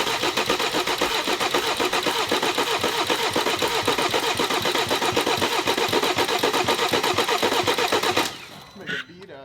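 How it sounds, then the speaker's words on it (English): A BMW engine that has sat unused for years cranks over steadily and loudly on the starter for about eight seconds with a rapid rhythmic chugging, then stops abruptly, leaving brief faint rattles. "I'm just gonna crank it for probably quite a few seconds, and hopefully we can be in luck."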